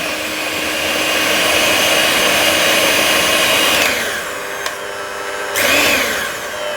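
A Gorenje M500DCBK hand mixer runs at its fifth and fastest speed with a steady, high-pitched motor whine that dips briefly near the end and then surges again.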